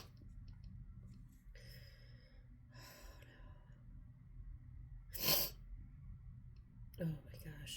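A person in a sneezing fit lets out several stifled, muffled sneezes into a hand, short breathy bursts spaced a second or two apart, the sharpest coming late, over a quiet room hum.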